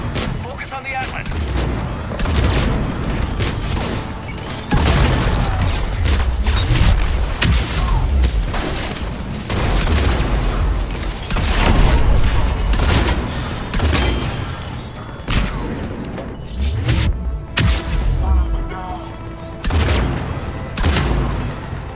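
Heavy cannon blasts and booms in Mass Effect 3's Omega DLC pound repeatedly in a dense barrage, loud and close, with bursts of rapid fire and voices mixed in.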